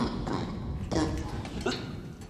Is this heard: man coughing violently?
yes